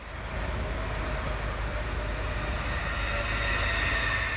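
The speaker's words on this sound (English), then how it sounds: "here comes my train from the sidings" A steady, loud rumble of an SBB high-speed train drawing in from the sidings, with a continuous low roar and faint high whine throughout, no voices.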